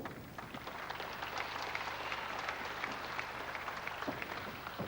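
Crowd applauding steadily at a wrestling match, Chic Cullen against Alan Kilby in Sandwell: dense, continuous clapping from a sizeable audience, moderately distant, with no voices over it.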